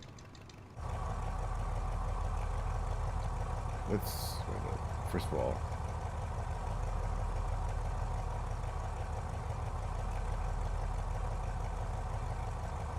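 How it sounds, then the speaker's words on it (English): The engines of an Aero Ae-45 vintage twin-engine aircraft run in a steady, loud, low drone with close cabin presence, settling in after a quiet start, while a pilot speaks briefly over it and a few faint clicks break through. "The sounds of this plane are great."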